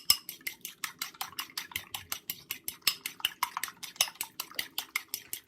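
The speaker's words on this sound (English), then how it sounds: "so you just need to whisk your egg up." An egg is beaten briskly in a bowl, with fast, regular clinking strokes of a fork or whisk against the sides, about five per second, close and steady without pause.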